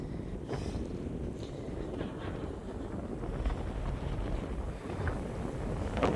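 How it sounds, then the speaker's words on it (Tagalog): Steady, strong wind buffeting the microphone with a low, continuous roar and occasional gusts, no voices. "Lakas ng hangin."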